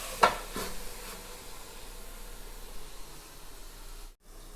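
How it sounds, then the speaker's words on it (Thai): A pan of stir-fried luffa with egg and minced pork sizzles in a steady, even hiss as a little water goes in, starting with a brief clatter, followed by a short thud and a moment of near silence as a lid closes. "เติมน้ำเปล่าเล็กน้อย นิดหน่อยค่ะ แล้วปิดฝานะคะอบ"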